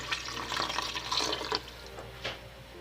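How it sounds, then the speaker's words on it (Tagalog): Chicken broth poured from a container into a pot of chicken macaroni soup, a soft continuous liquid splash with faint intermittent trickles, quiet and close. "Maglagay na tayo ng sabaw. Ito yung pinaglagaan natin sa chicken."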